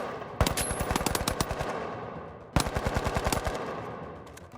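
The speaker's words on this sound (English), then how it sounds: "For the weapon, you have the AKM, a reliable automatic rifle, and the damage is great" An AKM automatic rifle in the game The Finals fires two sustained bursts of rapid, punchy shots, the first longer and the second after a short pause, loud and close with no voices.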